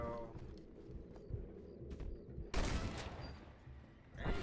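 Gunfire aimed at a horse in the Western video game Red Dead Redemption, with a sharp burst of shots erupting partway through over a busy game soundscape, then another blast near the end.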